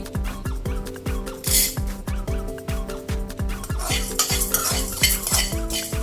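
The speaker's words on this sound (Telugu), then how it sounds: "ఇప్పుడు ఇందులో రెండు టేబుల్ స్పూన్ల పచ్చి శనగపప్పు వేసుకుంటున్నానండి" Raw chana dal is stirred in a preheated kadai, close and steady. A utensil scrapes in a regular rhythm against a soft sizzle of dry roasting, with no voices.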